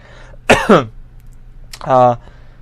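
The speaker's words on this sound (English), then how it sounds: "Pardon the coughing." Two short bursts of coughing, a rough hacking cough followed a moment later by a throaty, voiced cough, close to the listener.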